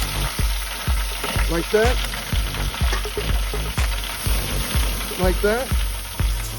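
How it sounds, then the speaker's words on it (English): Wet-aged tomahawk steaks sear on a grill while being turned for diamond grill marks, with a loud, close, constant sizzle and regular knocks of tongs; a voice speaks briefly. "Put some marks on it. Try to get that diamond look going on that sear."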